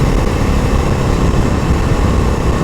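A Bajaj Dominar 250 motorcycle gives off a buzzing sound, heard as a loud, steady low engine drone with a rough buzzing texture, close up and without pause.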